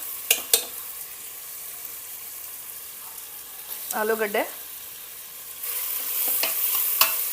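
Potatoes fry in a tempering of oil and turmeric with a soft sizzle, broken by a few sharp utensil knocks and scraping stirs against the pan.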